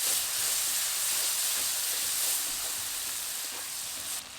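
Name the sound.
water added to frying ghugni masala sizzling in pan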